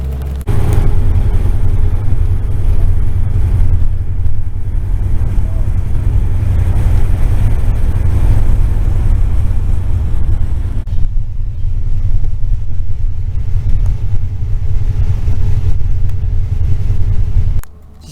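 A bus travelling the road from Baku to Quba gives a loud, continuous low engine and road rumble heard from inside the cabin, with wind buffeting over it and a dip partway through.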